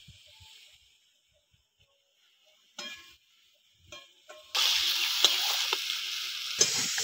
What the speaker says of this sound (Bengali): সবজিটা ভালো করে কষিয়ে নেব নুন হলুদ দিয়ে